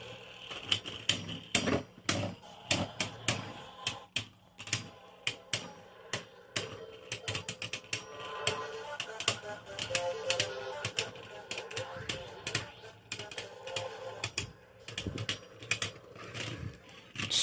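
Beyblade spinning tops clash and scrape in a stadium during a tournament battle, giving dense rapid clicks and sharp ticking impacts with a grinding rattle, close and fairly loud, with faint voices underneath.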